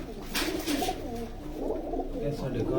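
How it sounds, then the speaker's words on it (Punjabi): Domestic flying pigeons coo close by in a steady, overlapping low murmur that runs throughout, with faint voices in the background. "ਇਹ ਜੀ ਜੇਠ ਦੇ ਵਿੱਚ ਜਿਹੜੇ ਉੱਡੇ ਨੇ ਕਬੂਤਰ ਜੀ।"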